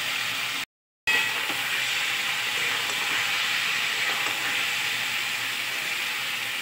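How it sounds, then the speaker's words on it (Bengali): Taro stolons (kochur loti) fry in a pan with a steady, close sizzling hiss that cuts out for a split second near the start, then carries on evenly. "লতিটা একটু আগে ভাজা ভাজা করে নেবো।"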